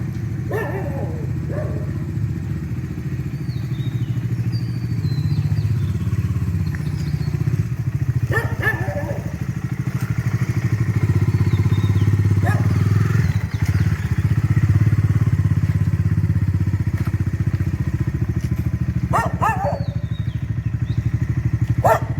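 A motorcycle loaded with strapped-on luggage runs at the start of a long road trip, its steady engine rumble continuing throughout, with occasional clatter and a dog barking in the background.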